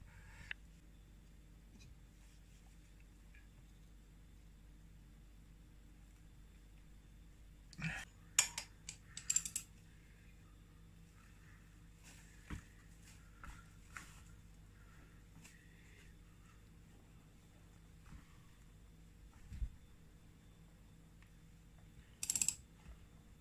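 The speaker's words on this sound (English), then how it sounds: "So I've put that puller onto that sleeve what fits into the flywheel, and we'll see if we can pull it off this way." A puller removes the flywheel from a Honda QR50 engine, giving sparse metallic clicks and ratcheting turns over a quiet background, with a louder clank near the end.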